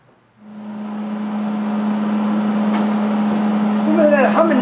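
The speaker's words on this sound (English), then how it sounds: "Some of that humming noise you hear is the welder." A welder hums steadily in a shop where a mud truck is being built, its constant low drone starting abruptly and running under clanks and faint voices toward the end.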